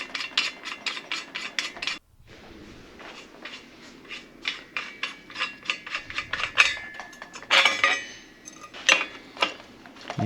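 Ratcheting clicks from a wrench loosening the headset lock nut on a vintage Specialized Hardrock mountain bike, close and fairly quiet, in rapid repeated strokes with short breaks and some metallic scraping.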